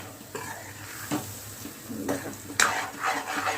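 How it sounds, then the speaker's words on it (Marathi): Matki sprouts and potato fry in spiced oil with a low sizzle, broken by a few clanks and scrapes of a spoon against the pan, close and moderately loud. "आता मटकी आणि जो बटाटा आहे ना तो या तेलामध्ये आणि मसाल्यांमध्ये चांगला फ्राय करून घेऊया."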